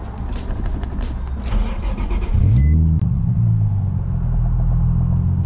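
A Nissan 350Z HR cranks and fires up nearby, a low engine rumble rising as it catches and then settling into a steady idle.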